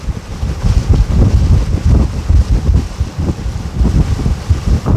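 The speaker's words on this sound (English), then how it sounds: "we have a fair bit of wind this morning" Steady, heavy wind buffets the microphone in a low, rumbling roar while a boat travels through the narrow channels of Northern Georgian Bay, continuous and loud throughout with no voices.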